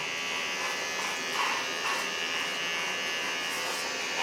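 An electric hair trimmer fitted with a zero blade buzzes steadily and close up as it cuts hair, with light pulsing strokes against the hair and no speech.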